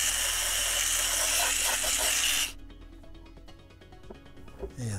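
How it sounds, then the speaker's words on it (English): A small finger sander works a Boba Fett jet pack part: a loud, constant high buzz for about two and a half seconds that cuts off sharply, leaving faint handling clicks and taps. "get my little finger sander and make a little quick work of that"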